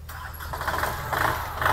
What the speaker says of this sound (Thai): รถสตาร์ทติดง่ายเลยนะคะลูกค้าสำหรับรถเก่านอกคันนี้เป็นรถ L1 20แรง